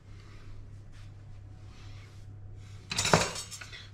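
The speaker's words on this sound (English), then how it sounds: "So the simplest thing to do is to take a spatula and just scrape it like that." A spatula scrapes salt off a roasted pork belly resting on a rack in one short, loud metallic scrape. A low, steady kitchen hum plays before it.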